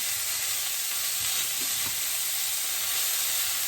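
Green beans frying in a pan with garlic confit, a steady bright sizzle with faint stirring clatter underneath, continuous and close throughout.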